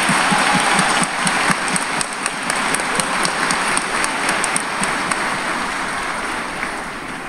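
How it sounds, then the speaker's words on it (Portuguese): Congregation applauding during Mass at the Santo Antonio Cathedral, a dense, continuous patter of many hands clapping in a reverberant space that fades slightly toward the end. "Vamos dar uma salva de palmas atrasado para eles agora"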